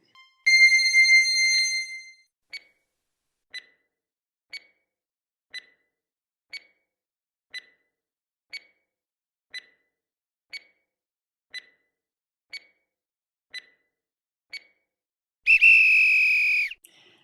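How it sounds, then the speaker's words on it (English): Countdown timer running: a bright electronic start signal, then about thirteen short evenly spaced beeps roughly once a second, ending in a loud buzzer-like alarm. "Let's get that timer rolling."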